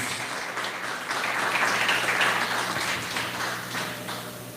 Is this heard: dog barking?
no